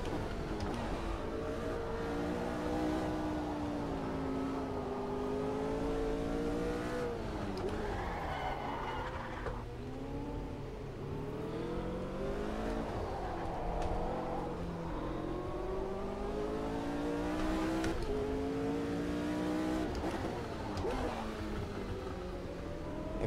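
Lauda's McLaren Formula 1 car in Automobilista 2, its engine revving and rising and falling through the gears as it drifts, loud and continuous with a few pitch swoops.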